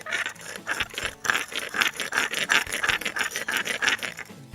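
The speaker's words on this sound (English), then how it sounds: "get it on some concrete and rub away." Head of a brand new stainless steel hammer rubbed back and forth on concrete, giving a loud, steady rhythmic rasping scrape with regular strokes, close up and without talk.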